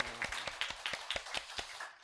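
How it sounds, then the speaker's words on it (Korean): Faint, scattered claps from a church congregation during a Sunday service sound in a loose, uneven rhythm for about two seconds before fading out. "찬양 받으신 하나님께 감사의 박수 올려드리겠습니다"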